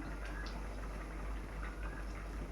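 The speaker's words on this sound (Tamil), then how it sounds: "குடிச்ச கருவாடு நல்லா கொதித்து வேகுது பாருங்கள்" A pot of dried fish curry bubbles at a steady, gentle boil, with a continuous soft simmer and small pops close by and no talking.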